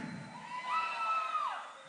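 A festival crowd at a live show in Santa Catarina shouting and cheering, a high wavering whoop rising above the steady noise of the crowd for a couple of seconds.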